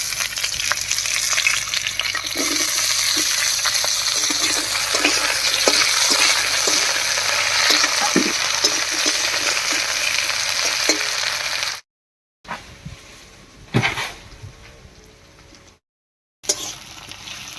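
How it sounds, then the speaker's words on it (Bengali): Cut potatoes tossed into a pan of already-fried eggplant with cumin and onion, giving a loud, steady oil sizzle with stirring scrapes for about twelve seconds, then short breaks and quieter sizzling. "বেগুনটা বেশ ভাজা হয়ে গেছে এবার এর মধ্যে দেবো কেটে রাখা আলু"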